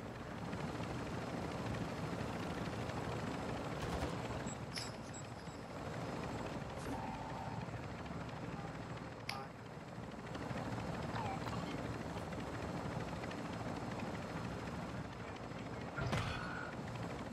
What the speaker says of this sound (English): that a helicopter?